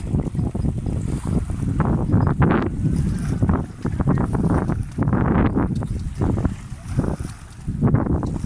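Strong gusty wind buffets the microphone while a Pacer 6 sailboat sails in Carantec, Morlaix Bay, with waves and water rushing against the hull. The sound is loud, close and continuous, and there is no talk.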